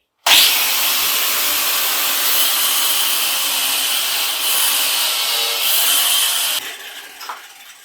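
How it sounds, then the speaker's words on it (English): Makita angle grinder fitted with a diamond blade cutting through a toilet trap collar, a loud continuous high-pitched grinding screech that runs steadily for about six seconds before winding down. "using a diamond cut blade and my Makita grinder, I'm going to cut this collar off"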